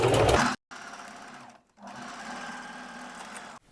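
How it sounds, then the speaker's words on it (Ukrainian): A sewing machine runs in steady bursts, stitching tunnel tape onto a bra bust back and forth to lock the seam, with short pauses between the close, loud passes and no talk. "В моменті до мене пришита тунельна стрічка. Я проходжусь вперед і назад."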